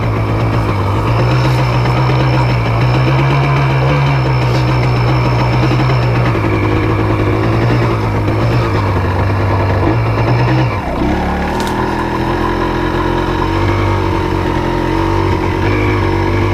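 Yamaha Blaster quad engine running steadily in first gear, a fairly quiet, continuous near hum with one brief shift in pitch partway through, no talking over it.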